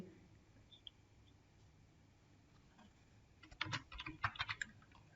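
Quick bursts of typing on a computer keyboard while entering a formula into a Windows 10 MS Office spreadsheet, quiet at first and then a close, clattering run of keystrokes in the last couple of seconds.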